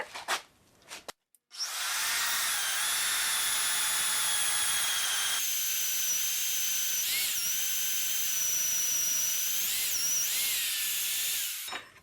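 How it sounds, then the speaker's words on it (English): A magnetic drill with a large annular hole cutter bores through scrap steel, a loud sustained high whine after a brief start-up, its pitch shifting slightly as the cutter bites, then stopping. "We'll get a huge hole cutter that cuts out a huge plug."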